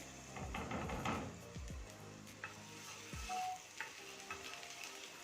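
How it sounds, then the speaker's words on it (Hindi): Garlic sizzling in hot oil in a pan, a soft crackling hiss with a few scraping stirs and light clinks. "सबसे पहले लहसुन डालेंगे, 1 टेबलस्पून मैंने ऑयल डाला है फ्राई पैन में।"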